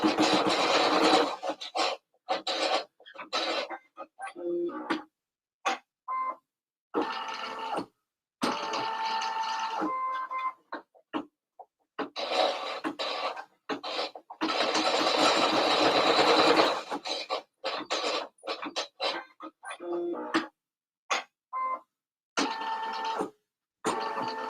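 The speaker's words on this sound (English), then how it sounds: "The first thing I'm going to stitch is just the placement stitch for the elastic" A sewing machine stitches a placement line on elastic in short and long bursts of rapid mechanical whirring, stopping and starting repeatedly with brief quiet gaps between runs.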